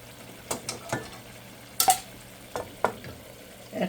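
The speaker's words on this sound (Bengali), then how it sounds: "এটা একটু কষিয়ে নিই" Blended onion and chili paste sautéing in a pan: quiet scattered scrapes and stirs of a spatula against the pan, several short knocks and clinks over a faint background.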